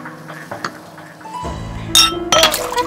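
Drinking glasses clink together in a toast around a dinner table, two bright, ringing clinks close together near the end over a low room murmur.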